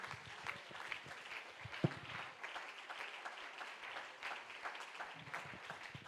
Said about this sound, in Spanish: Más fuerte esos aplausos